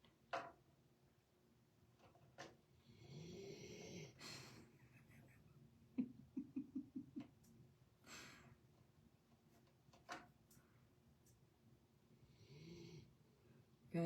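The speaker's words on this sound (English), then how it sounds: "He is snoring his life away over here." A dog, an American Bulldog mix, snores indoors in a series of low, rattling breaths with snorting bursts, fairly quiet and close, with a quick run of sharp ticking clicks partway through.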